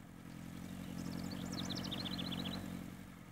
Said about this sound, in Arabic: كان والدها يقود دراجته النارية.